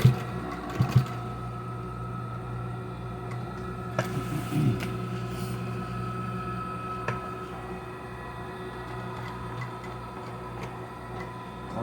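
A sewing machine stitching seat cupholder upholstery for a 2005 Silverado rear seat, running as a steady fast mechanical ticking hum, close and continuous, with a few small clicks and handling noises.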